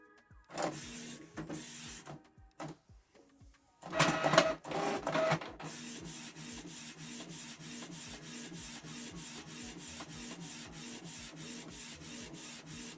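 A Canon PIXMA G3410 inkjet printer printing a photo: a few early mechanical whirs and clicks, a louder feed burst, then a steady rhythmic print-head shuttle that continues at an even pace, close and moderately quiet.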